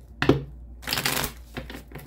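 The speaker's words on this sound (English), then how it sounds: "One more shuffle, Virgo, you versus them." Tarot cards being shuffled close up, a few quick riffling bursts of papery rustle and flutter separated by brief pauses, with no talking.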